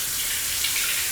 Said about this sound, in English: you always need to wash your fruits and vegetables before you use them